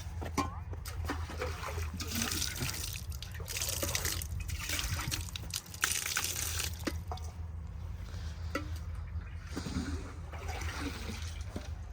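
Water pours into a glass nearby, giving soft liquid trickles and splashes over a steady low background hum. Faint speech appears now and then.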